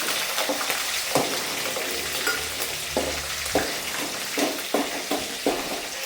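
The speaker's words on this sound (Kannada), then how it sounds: "ಇವಾಗ ಇದಕ್ಕೆ ಕರಿಬೇವು ಹಸಿಮೆಣ್ಸಿನ್ಕಾಯಿ ಹಾಕೊಂಡು ಸ್ವಲ್ಪ ಚೆನ್ನಾಗಿ ಫ್ರೈ ಮಾಡ್ಕೊಬೇಕು" Curry leaves and green chillies fry in a pan of hot oil, a continuous bright sizzle punctuated by sharp crackles and spatula taps on the pan, close and fairly loud, with no one speaking.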